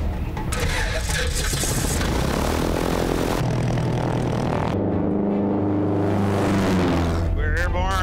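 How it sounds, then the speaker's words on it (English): A small propeller airplane with retractable gear roars at full power during takeoff, a loud continuous engine drone with a shifting pitch, heard from inside, and a voice speaks briefly near the end. "We're airborne, gear coming up."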